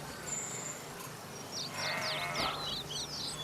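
A flock of sheep bleats over a steady outdoor background, several overlapping calls rising mid-clip, moderately near with no talk.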